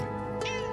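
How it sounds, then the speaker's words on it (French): A cat in straw gives a single short meow, close and fairly loud, over a steady low background hum. "c'est un chat très malheureux ça"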